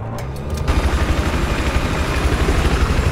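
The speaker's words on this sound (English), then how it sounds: "I'm just gonna fly the chopper real low at A." Helicopter rotor and engine in the Battlefield 4 video game during a large conquest match, a steady throbbing drone with low rhythmic thumping that holds loud and continuous after a brief quieter start.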